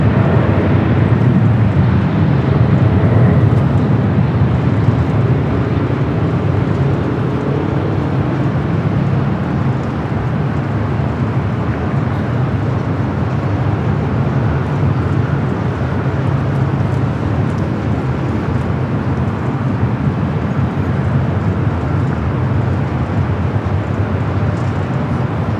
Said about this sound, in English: We do have a United Dreamliner rolling down to 25 right.